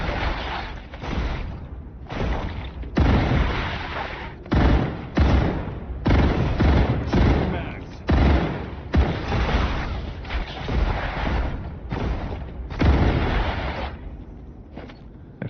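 Sustained gunfire in the co-op factory game StarRupture, repeated rapid bursts with brief pauses for nearly sixteen seconds, loud and close with no voices.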